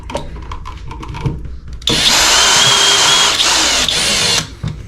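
Quiet handling noises give way to a loud power drill whirring steadily for about two and a half seconds into an electrical box during a GFCI outlet repair before it stops.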